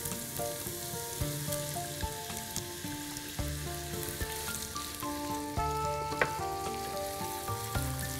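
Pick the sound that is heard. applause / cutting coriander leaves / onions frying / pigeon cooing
onions frying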